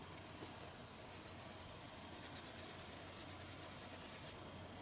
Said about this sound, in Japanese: 好きな色を茶こしで削って粉にしてコットンで塗っていきます